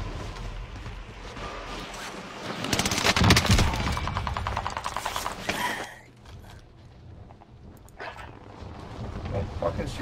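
Rapid automatic gunfire rattles through a Call of Duty: Warzone match, with a dense burst mid-clip and then quieter shots, and game sounds and voice chat underneath.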